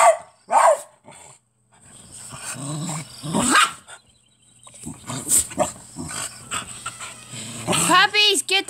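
Puppies panting and barking up close, sharp yips and breathy panting mixed with a person's excited shouting and laughter throughout.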